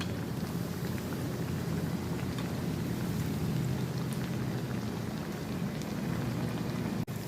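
Semolina rava vada fry in hot oil with a soft, continuous, rain-like sizzle and crackle, steady and fairly quiet, with no talking.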